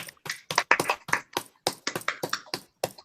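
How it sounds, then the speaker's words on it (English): Participants on an online poetry video call applaud after unmuting, giving a round of scattered, uneven claps and taps from several people that come in irregular bursts over a few seconds. "let's give a nice round of applause to Barbara and Dee Dee."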